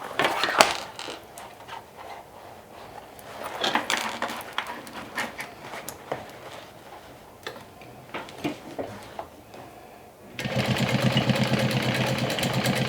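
A sewing machine runs in short bursts while stitching bag straps and raw edges, giving a close mechanical ticking whir with pauses between runs, then a steadier, louder run near the end.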